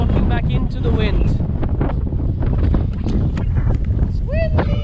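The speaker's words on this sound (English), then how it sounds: "It's windy again!" Strong wind buffeting the microphone during a walk through a residential area of Mykonos town, Greece, a constant roar with people talking over it.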